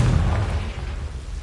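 A Confringo fire spell bursts in Hogwarts Legacy, a loud, close, single booming blast that rumbles briefly and fades out, with no voices.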